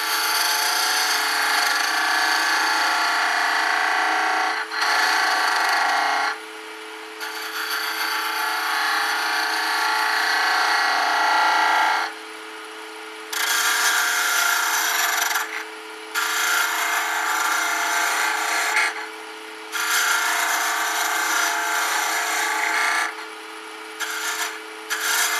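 A flat top gouge cuts wood spinning on a lathe, giving a steady, close rasping scrape that drops out briefly several times as the tool is lifted and rolled, with no talk.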